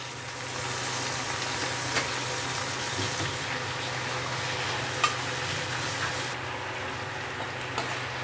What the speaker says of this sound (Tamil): அந்த கொத்தவரங்காய் வேகிற வரைக்கும் வதக்கணும்.